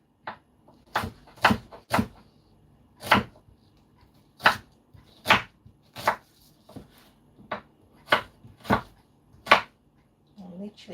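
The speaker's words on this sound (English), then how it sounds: "I'm literally chopping this into any size." Knife chopping food on a cutting board in a home kitchen, roughly fifteen sharp, evenly spaced chops at a steady unhurried pace, close and clear.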